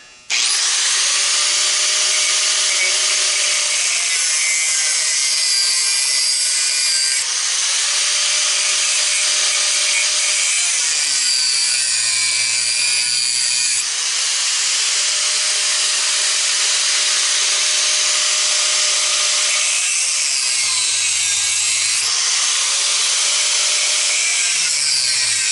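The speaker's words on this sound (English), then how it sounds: "here comes the angle grinder. So, when all else fails, just cut them off." An angle grinder cuts through an electric motor being scrapped for copper and cast aluminium, a loud continuous high-pitched whine and grinding screech that shifts slightly in pitch as the disc bites, sustained for about twenty-five seconds with no talk.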